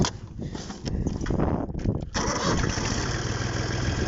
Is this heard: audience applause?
no